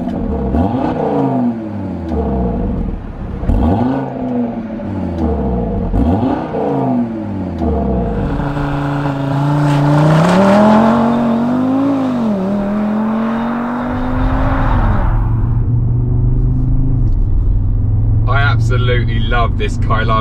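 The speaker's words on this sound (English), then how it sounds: "that is unmistakably an Audi 5-cylinder" Audi RS Q3 Sportback five-cylinder engine revs repeatedly through rising, falling sweeps, then swells into a long loud acceleration before settling into a steady drone. Someone talks over parts of it.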